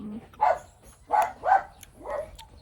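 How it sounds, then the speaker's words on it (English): Dogs barking in a village, four or five sharp barks spaced apart over a couple of seconds, moderately close and alone with no talk over them. "Dogs interrupting."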